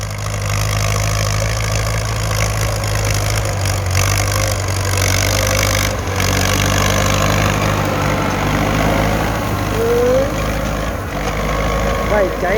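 A Ford tractor engine runs steadily while plowing a rice field on hire, a loud, continuous low diesel drone with a faint whine rising near the end.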